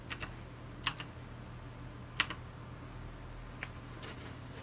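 A few short bursts of computer keyboard typing while searching for an effect in Premiere Pro, sparse quick clusters of clicky keystrokes over a low steady hum, close and quiet with no speech.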